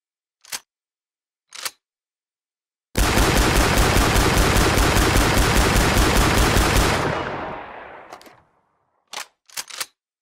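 Guns blast in the Killing Floor shooter game: a few isolated sharp shots, then a long unbroken roaring burst of rapid fire lasting about four seconds that fades out, followed by a handful of separate loud reports.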